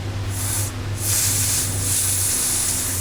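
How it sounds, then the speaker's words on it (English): Nitrogen gas hisses through a needle into a KTM shock absorber, a close, loud continuous spray that cuts out briefly and then resumes steadily. "Turn the nitrogen on. Turn it back off, make sure it's holding at 150."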